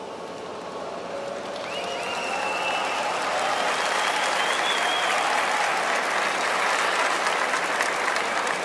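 An audience at a youth church convention applauds, and the clapping swells into a broad, sustained wash that keeps going to the end.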